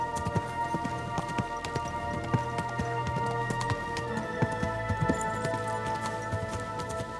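Horse hooves in Kingdom Come: Deliverance II, a steady run of clip-clop hoofbeats over a busy game soundscape with rain-like patter, moderately loud throughout.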